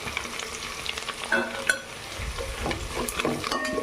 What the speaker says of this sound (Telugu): కొంచెం మగ్గాక దాంట్లోకి కరివేపాకు వేసుకుందాం.